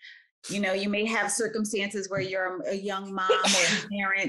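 A single quick sneeze bursts out at the very start, then a person speaks continuously at close range.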